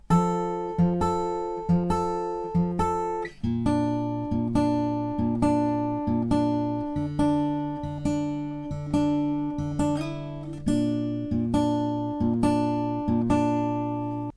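An acoustic guitar is fingerpicked in a lower position on the neck, playing a song. Clear, steady repeating picked notes ring out alone with no talking.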